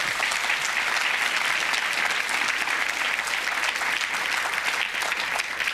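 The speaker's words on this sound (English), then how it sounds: "It's not often you get a round of applause, is it?" A television quiz show studio audience breaks into sustained, loud applause, a thick even wash of many hands clapping with no pause.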